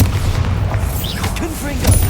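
A Bombarda spell explosion in Hogwarts Legacy lands as a deep, booming blast amid ongoing combat noise, short and loud, with a voice calling out over it.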